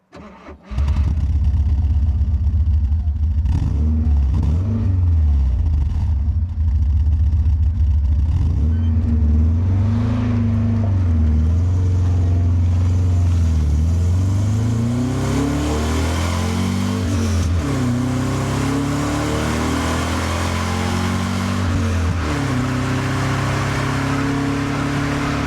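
An Alfa Romeo 145 with a 1.6 boxer engine starts and drives on the road, its engine revving up and down through repeated accelerations and gear changes, loud and steady, with no voices.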